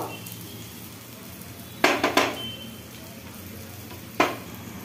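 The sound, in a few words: egg toast frying in a pan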